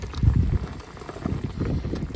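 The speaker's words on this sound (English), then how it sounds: "Now it's all come back to the boil." A pot of pork simmering in white wine comes back to a boil, with low bubbling and gentle blipping close by, steady and moderately loud with no talk.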